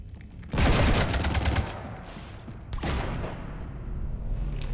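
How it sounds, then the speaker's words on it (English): Loud bursts of automatic gunfire aimed at a ship in the video game Mass Effect 3, two sustained volleys separated by a short pause over a low hum. "You want to stop shooting up my ship?"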